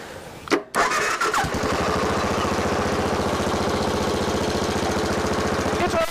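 A 1995 Suzuki Savage 650 motorcycle, cold with the choke on after sitting for years, cranks briefly, fires up and settles into a steady, loud, close idle.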